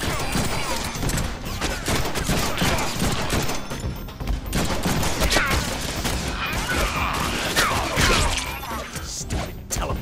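Rapid bursts of gunfire in the Deadpool video game, dense and continuous with crashes and smashing mixed in, loud throughout, with brief voices heard amid the shooting.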